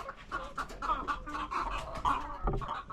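A second batch of backyard chickens clucks in short, repeated bursts, several birds calling close by and overlapping at a moderate level, with no talking.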